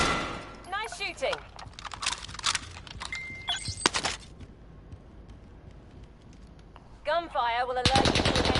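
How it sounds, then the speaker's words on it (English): Bursts of rapid machine-gun fire in a video game, loud and close, come in clusters between stretches of quieter ambient noise, with electronic chirps at the start and end. "Gunfire will alert you to an enemy's presence."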